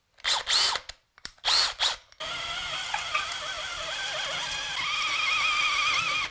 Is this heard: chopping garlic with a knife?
no